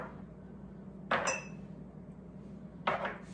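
Fiesta ware ceramic salt and pepper shakers knock together in two sharp, bright clinks about two seconds apart, close by against a quiet room hum.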